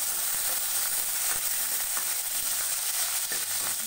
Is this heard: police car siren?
no